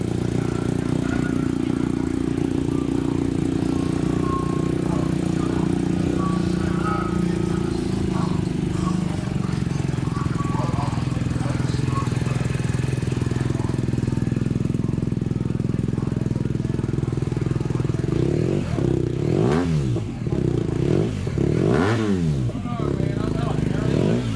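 BMW R1250GSA motorcycle with a Vance and Hines exhaust, idling steadily with a loud, continuous low rumble and a few small revs near the end.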